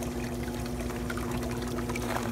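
Grey water trickles and pours through an RV irrigation filtration system, a continuous close liquid splashing over a steady low pump hum, with no talking.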